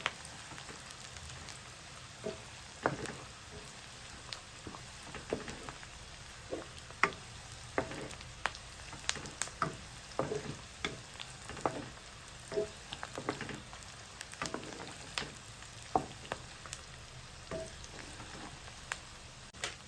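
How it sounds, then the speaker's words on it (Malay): Pandan leaves fry in sambal, a quiet steady sizzle broken by many sharp pops and spits that land at uneven intervals. "Kita masukkan terus daun pandan untuk menambahkan wangi"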